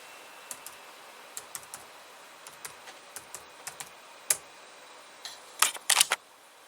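Scattered single keystrokes tap on a laptop keyboard at a Lenovo ideapad 330 as a password is entered, close and crisp, ending in a quicker cluster of louder taps.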